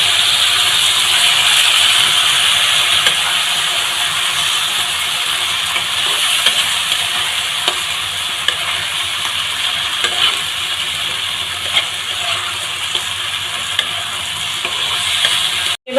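Pointed gourd pulp frying in grated coconut that is releasing its oil, a steady loud hiss of sizzling with faint scraping of stirring, close up and without voices.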